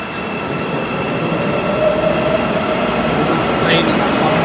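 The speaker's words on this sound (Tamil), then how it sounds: "நம்ம ட்ரெயின் இங்கே வருங்க" A subway train rumbles loudly and steadily, with a constant hum and a brief high squeal of wheels near the end.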